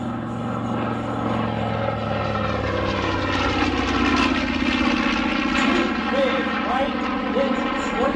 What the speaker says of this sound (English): Those big right engines are turned up.